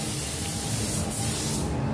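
Spray gun laying epoxy primer onto a car hood stripped to bare metal, a loud, steady, close hiss of atomized spray running without a break.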